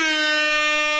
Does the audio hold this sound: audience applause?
no